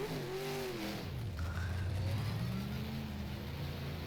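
Big block modified race car in rFactor at Weedsport, engine note dropping and then climbing steadily as it revs up through a gear, a continuous drone with no talking.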